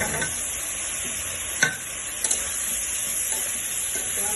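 Spiced masala and green plantain frying in a pan, giving a continuous, even sizzle with a few faint stirring knocks and scrapes.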